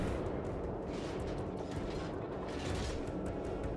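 Battleship gunfire in World of Warships from the USS Wyoming, heard as a dense, steady wash of booming, rumbling cannon and mechanical noise with a few swells, loud and continuous with no talking.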